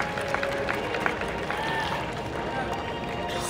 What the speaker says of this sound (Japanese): 拍手してるみんな、すごいすごいすごい、この一体感